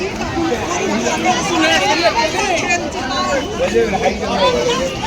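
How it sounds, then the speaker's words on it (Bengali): A dense crowd of passengers just off a packed train at Nabadwip Dham: continuous close chatter and overlapping voices that form a steady, busy hubbub. "ট্রেন থেকে নামলাম, এখনই আর কি ভিড় দেখো। সবাই নামলাম, যা ভিড় ছিল ট্রেনে।"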